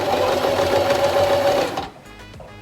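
Sewing machine running a zigzag stitch on a scrap of fabric, a fast steady mechanical whir close up that cuts off after about two seconds.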